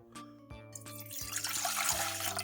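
Water pours steadily into a bowl, about 300 ml going in as the base for a sauce for grilled green onions. The pour starts softly and grows into a fuller, louder rush over a light musical background.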